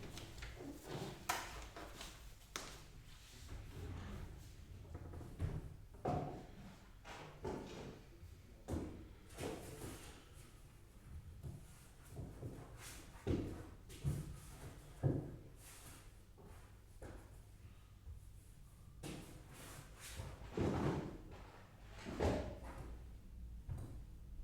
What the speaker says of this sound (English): I'm just gonna check my Lego drawer. It might be in there.